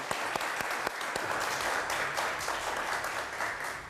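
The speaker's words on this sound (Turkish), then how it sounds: "Fakat bu alkış çok az. Bir kuvvetlisini duyalım." Studio audience on a Turkish word game show breaks into steady, dense applause, loud and continuous throughout, with a few sharper individual claps standing out near the start.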